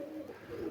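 A single pigeon gives a short, soft, low coo, close by and quiet, with no other sounds around it.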